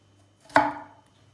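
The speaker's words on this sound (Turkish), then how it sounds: "Soğanlarımız da iri doğranacak." A single knife chop through an onion being coarsely cut on a board, one sharp near thud with a short ringing tail, alone in a quiet kitchen.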